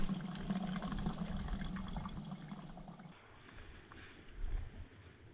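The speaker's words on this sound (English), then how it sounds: "made sure I filled up all my empty bottles and platypuses" Water from a Scottish lochan gurgles steadily into empty bottles and soft water bladders, a close, continuous trickling and bubbling that eases off partway through.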